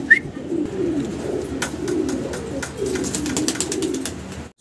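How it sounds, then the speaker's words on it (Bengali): A pair of Mundian fancy pigeons coos steadily and close by, their low throaty calls rolling on continuously with a few faint chirps and clicks above them and no one speaking. "বিগ সাইজের ভিতরে একজোড়া মুন্ডিয়ান কবুতর"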